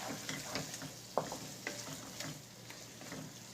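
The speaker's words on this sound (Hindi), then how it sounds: "अब हम इसमें गरम मसाला ऐड करेंगे और मिक्स करेंगे" Fried tripe (ojhri) being stirred with garam masala in a hot pan, a steady sizzle under repeated scraping strokes of a spoon, close and fairly loud with no talk.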